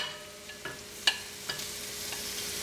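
Diced shrimp cooks in a pan of grits with a soft steady sizzle and a few brief stirring taps, close and fairly quiet.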